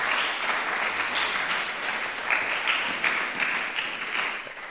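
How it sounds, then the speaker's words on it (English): An audience at a public forum on illegal gold mining gives a sustained round of applause, a thick, steady wash of clapping with a few sharper individual claps poking out. "A round of applause for our chairperson."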